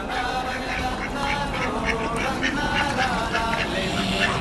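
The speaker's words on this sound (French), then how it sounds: "Petit canard." Duck quacking outdoors in a countryside setting with houses and young goats nearby, repeated quacks over steady background noise, with people talking nearby.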